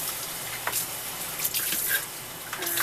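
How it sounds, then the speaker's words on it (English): Kitchen faucet running as something is rinsed under it: a steady soft hiss of flowing water with small splashes and clatters breaking through, fairly quiet and close, no talk. "Let me rinse these under the faucet really quick."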